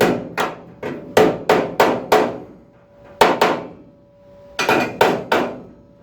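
A hammer strikes sheet metal on a Mk V Ford Cortina body during restoration, giving sharp, ringing blows in uneven bursts of two to four with short pauses between, close and loud with no talk.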